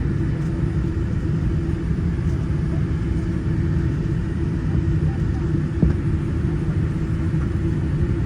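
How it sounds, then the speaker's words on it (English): Inside the cabin of a Qatar Airways airliner taxiing toward the runway, a constant low engine rumble and hum drones steadily without breaks. "The captain has started taxiing off to the runway"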